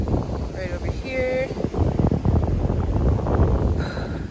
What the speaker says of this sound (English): it's a little bit windy. There's a beautiful breeze right now